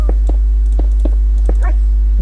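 Puppies in a hardcore survival video game let out five or six short whimpers at uneven intervals over a steady low hum, with a brief murmur of voice between them.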